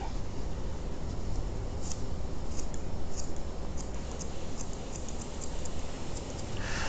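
Scissors snip through hair along a blunt-cut guideline, giving a series of faint, small, irregular clicks over a constant hiss of background noise, close but quiet, with no talking.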